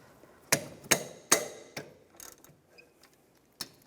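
Several sharp metallic clicks and knocks from a 13mm socket wrench loosening two bolts on a 2007-2013 Mini Cooper brake caliper, three strong close hits followed by softer scattered taps, no talking.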